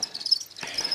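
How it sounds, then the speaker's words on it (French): Pet crickets kept as ant food chirp in a steady, high-pitched trill of short repeated pulses, fairly close and alone in a quiet room. "j'ai les petits grillons, donc je suis désolé s'ils dérangent pendant la vidéo"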